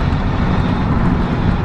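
A garbage truck on a residential street in Pensacola gives off a steady, loud engine rumble and roadway noise that holds an even level throughout, with no voices.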